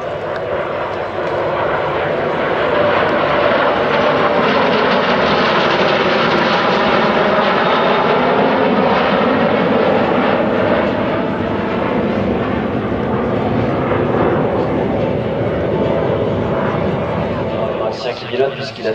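A PZL-Mielec Lim-2, the Polish-built MiG-15 jet, flies a display at the Villaroche air show. Its loud, continuous jet roar shifts slowly in pitch as it passes, with a commentator talking over it.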